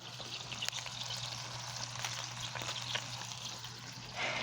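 Cheeseburgers sizzle and fry in a pan, a steady soft crackling hiss with occasional pops, quiet and even throughout with no talking.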